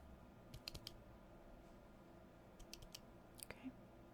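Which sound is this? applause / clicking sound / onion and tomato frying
clicking sound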